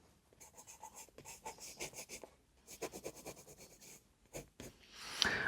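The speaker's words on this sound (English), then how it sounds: "Just using the side of the pencil just to scribble it in" A pencil held on its side scribbles quickly over paper, giving steady, rhythmic rasping strokes that come in short bursts with brief pauses, close and fairly faint.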